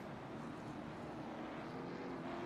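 A helicopter sound effect played by mistake over a racing stream from South Boston, a steady loud rotor and engine drone running throughout without a break and with no talk over it.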